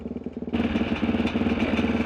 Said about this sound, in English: When Joe's two-stroke gets really noisy, it isn't because he's doing anything different